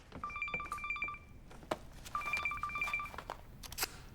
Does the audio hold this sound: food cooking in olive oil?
no